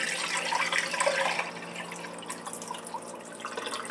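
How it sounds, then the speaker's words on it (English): Water pours from an open-faced waterfall reservoir into a sink, a bright gushing splash that cuts back partway through to a lighter trickle and dripping, with no talking. "I'm just pouring it right into the sink."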